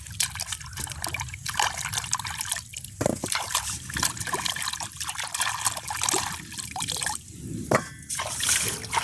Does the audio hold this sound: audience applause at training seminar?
no